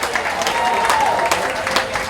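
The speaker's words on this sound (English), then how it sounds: "give them a round of applause" Guests on a fundraiser boat ride applauding a sponsor, a short burst of loud, dense clapping from a crowd, steady throughout with a faint tone underneath.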